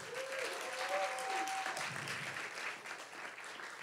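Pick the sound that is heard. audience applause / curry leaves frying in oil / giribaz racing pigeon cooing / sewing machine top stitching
audience applause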